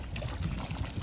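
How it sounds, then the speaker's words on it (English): Antifreeze pours into a fiberglass pool skimmer as a soft, steady trickle of liquid, close but quiet, lasting about a second with no speech. "I'm gonna add some antifreeze"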